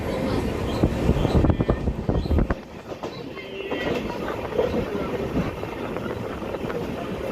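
Jan Shatabdi Express (12052) on the Konkan Railway, heard from aboard: a steady, moderately loud rumble and rattle of the moving train with wind buffeting, a busier burst of clatter near the start.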